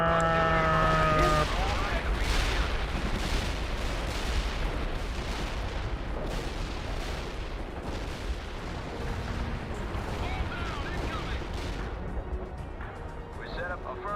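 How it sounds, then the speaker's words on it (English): Queued artillery fire in the real-time strategy game World in Conflict: a run of heavy booming impacts and blasts rolling one after another, mid-distance, with radio-style voices talking over the barrage. "you can actually queue up the artillery like this in this game"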